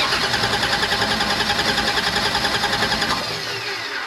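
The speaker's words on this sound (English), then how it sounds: "Now we're going to turn the engine over." Car engine cranking over without firing during a hot start fault with no spark from the coil, a loud rhythmic starter churn pulsing steadily for about three seconds, then dropping to a quieter fading whir.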